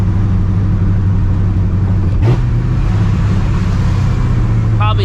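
Supercharged 2004 Mustang GT with a big cam rumbling steadily while driving, a loud low lumpy idle-like drone throughout with a brief surge near the middle.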